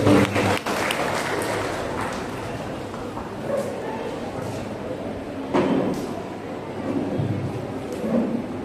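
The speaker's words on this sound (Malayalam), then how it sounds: "അച്ഛന് ഒരു കൈയടിച്ച് നമ്മുടെ നന്ദി പ്രകടിപ്പിക്കാം." Audience applause at a Sunday School catechism anniversary public meeting and prize distribution, given to thank a guest: steady, dense clapping from a crowd that lasts throughout, with a few louder swells.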